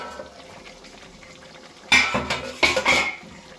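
A chicken and potato curry is stirred in a pot, with a quiet simmering background broken by two loud bursts of spoon scraping and clanking against the metal, alone.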